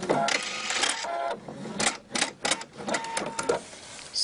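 A sewing machine stitches binding tape onto an apron in short bursts of rapid close-up clattering, stopping and starting several times, with brief pauses between runs.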